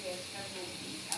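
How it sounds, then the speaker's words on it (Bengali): Cumin seeds sizzle in hot oil alongside fried garlic and onion, a steady close hiss filling the short moment with a brief sharper crackle near the end, while someone talks over it. "এখন আমি জিরাটা দিয়ে দিলাম"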